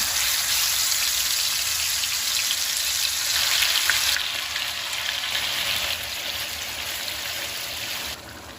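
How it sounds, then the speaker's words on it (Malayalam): Prawns fry in hot oil in a pan, giving a steady, loud sizzle with bubbling crackle that runs throughout and eases slightly toward the end, with no talking. "നമുക്ക് ചെമ്മീൻ ഇതിലോട്ട് ഇട്ട് കൊടുക്കാം."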